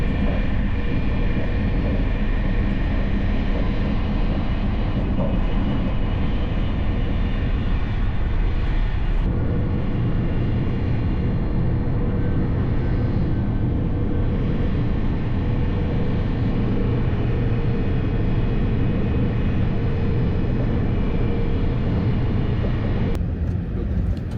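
An airplane near an airport gives off a loud, steady engine roar that carries on without a break, broad and droning, with no voices over it.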